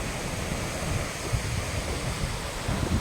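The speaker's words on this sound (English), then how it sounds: "the waterfall and the pool before the waterfall" Gartmore Falls pours steadily into the pool below, a loud, unbroken broadband rush of falling water close by, with no voices over it.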